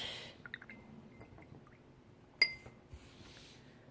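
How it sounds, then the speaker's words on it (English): A paintbrush is swished and tapped in a glass of water, with soft drips, a few light clinks against the glass and one sharper knock, quiet and close. "I'm going to go ahead and rinse my brush"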